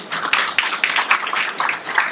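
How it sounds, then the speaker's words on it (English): An audience applauds at a Thanksgiving pluralism awards event, with brisk, dense clapping throughout a short burst and no voices. "Let's give a round of applause"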